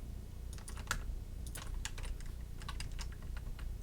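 Computer keys are tapped in a quick, faint cluster of clicks while a Ctrl+V paste shortcut is pressed during 3D car modeling work, with a low steady hum underneath.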